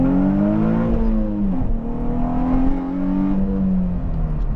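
Nissan 350Z fitted with a Bell Raceworks diff brace pulling hard from a 10 mph roll, engine note climbing steadily through a gear, dipping briefly at a shift, then rising again, loud and close from inside the car.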